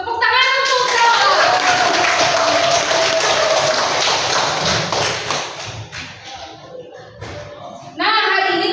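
A classroom bursts into several seconds of dense clapping for a student, mixed with children's voices, then fades to scattered taps before a speaking voice returns.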